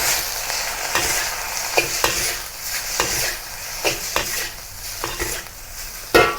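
Basil fried rice tossed in a wok with stir fry sauce, a steady sizzle under repeated scraping strikes of a spatula against the pan, close and fairly loud, ending on a sharper clank.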